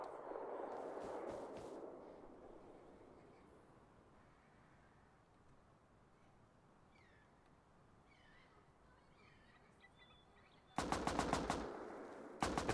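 Rifle fire in the survival game Rust: a short burst of shots near the start, a stretch of quieter ambient noise, then loud rapid automatic bursts close by at the end.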